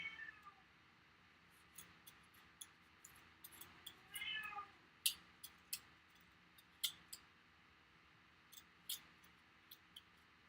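Faint cat meows come through early on, followed by scattered sharp clicks and snips at irregular intervals in a quiet room.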